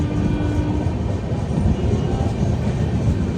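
SMVT Bengaluru Express train rolling between Assam and West Bengal, heard from inside as a steady, loud low rumble and rattle of wheels on track with no breaks.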